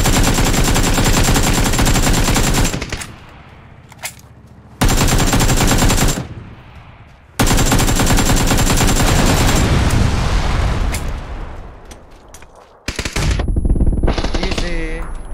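PUBG gunfire comes in loud, rapid automatic bursts, several long sustained volleys separated by short gaps and a few quieter stretches, with brief players' voices in the background.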